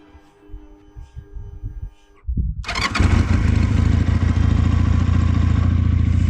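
A Regal Raptor Pilder 250 twin-cylinder chopper motorcycle engine cranks after a few clunks, then starts and settles into a loud, steady, throbbing idle close by.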